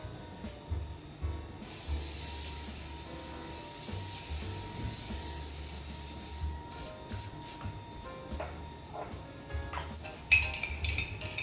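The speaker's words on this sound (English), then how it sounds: "I'm gonna be spraying it with some palm butter spray" A palm butter cooking spray hisses steadily for several seconds close by, followed by clinks and clatter of kitchen utensils.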